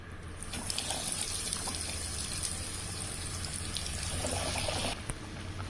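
Egg potato chops fry in hot oil, giving a steady close hiss and crackle that runs throughout and shifts slightly near the end, with no talking.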